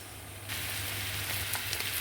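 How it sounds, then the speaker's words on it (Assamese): Bitter gourd and potato pieces frying in an oil pan, a steady close sizzle that swells louder partway through with small crackles and pops, no talk. "এইখিনি ভাতকেৰেলা আলু ভাজি আছোঁ।"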